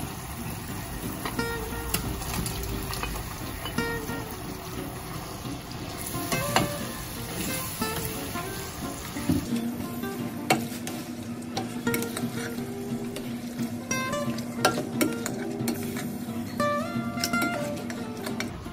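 Shrimp frying and being stirred in a pan for sweet chili shrimp, a steady loud sizzle throughout with scraping stirs and occasional clinks of utensil on metal, no voices.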